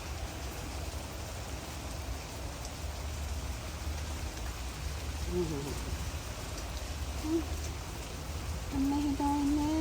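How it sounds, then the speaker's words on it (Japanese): Heavy rain pours outdoors during a windstorm, a dense, steady hiss throughout, with a brief faint voice or tone rising near the end. "雨ひどいね。"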